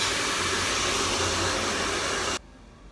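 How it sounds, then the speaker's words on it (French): A hair dryer blows steadily and loudly while blow-drying and straightening hair after an at-home tannin smoothing treatment, then cuts off abruptly near the end. "là on est en train de les lisser au séchoir"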